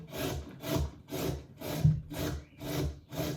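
A carrot grated by hand on a grater for coleslaw: about seven even, rhythmic rasping strokes, close and fairly loud, with no voices.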